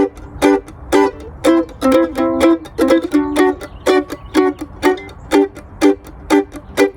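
Improved bluegrass rhythm chop: crisp, clipped chord strokes on an acoustic instrument, tighter and more percussive, falling in a steady pulse with a few quick doubled strokes mid-phrase, played up close with no talking.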